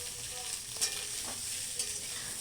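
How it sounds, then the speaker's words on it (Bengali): Potatoes, cauliflower and a few peas fry in a wok, a steady close sizzling hiss with faint stirring scrapes. "কড়াইতে ভাজতে দিয়ে দিচ্ছি আলু ফুলকপি এবং সাথে অল্প করে মটরশুঁটি দিয়ে দিচ্ছি"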